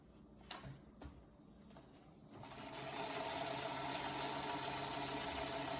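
A sewing machine set to a smaller stitch starts after a few faint clicks, then runs steadily with a fast, even mechanical whir and rapid ticking that holds for several seconds.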